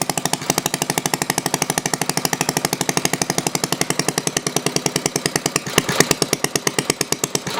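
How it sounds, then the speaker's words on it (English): An antique 1948 Briggs & Stratton WMB small engine idles low in a steady, rapid putt-putt rhythm, loud and close, with a slight stumble near the end. "I like it real low Briggs gallop."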